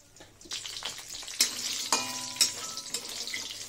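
Bori lentil dumplings fry in oil, giving a close, crackling sizzle that swells as they are stirred, with several sharp metallic clinks of a spatula against the pan.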